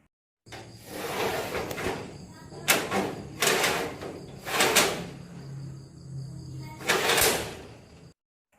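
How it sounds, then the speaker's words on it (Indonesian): A heavy prison door used as a sound effect, sliding and clanging shut in several loud metallic bursts over a continuous rumbling bed, with a voice speaking underneath. "sound effect kita memberikan di mana suara pintu penjara yang tertutup"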